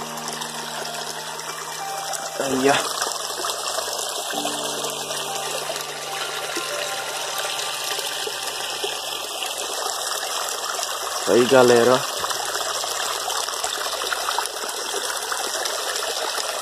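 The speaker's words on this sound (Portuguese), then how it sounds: "água caindo aqui, galera" Water pours steadily down a small stream, a continuous broadband rush that holds throughout, while someone speaks briefly over it twice.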